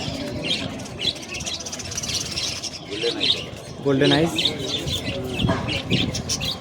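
Pigeons at the busy Sarenga pigeon market in Howrah coo and chirp in short bursts over a constant crowd murmur while someone talks close by.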